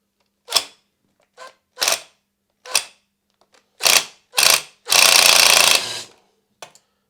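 Tool work removing two ignition coil bolts on a 62cc Perla Barb chainsaw, heard as a series of short, close metallic clicks and ratchets with a longer burst of rapid turning near the end.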